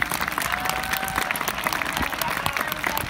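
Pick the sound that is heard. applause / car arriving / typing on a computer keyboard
applause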